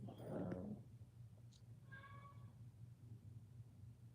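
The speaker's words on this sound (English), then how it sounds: "y'all gonna hear my cat because I'm talking" A house cat meows once, fairly faint and a short distance off, over a steady low hum in a quiet indoor room.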